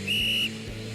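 A coach character in a video game gives a single loud, shrill whistle blast lasting about half a second, over a low steady game background hum.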